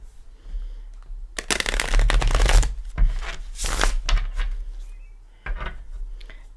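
Gilded Tarot cards are shuffled in a steady flurry of riffling and papery slaps, close and fairly loud, in two long bursts separated by a brief pause, then a short final burst.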